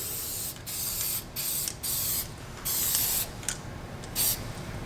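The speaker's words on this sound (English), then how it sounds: "you spray using a spray bomb, you spray away from you" A spray can laying finish onto a wooden dyed-rim platter in a series of sharp hissing bursts, about seven short sprays with brief pauses between them, close and clear.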